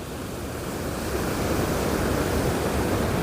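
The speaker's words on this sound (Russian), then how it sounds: "А водопад Искандер." A steady, roaring rush of falling water, loud and continuous, from Iskander waterfall on the Iskander-Darya river in Tajikistan, heard from close by.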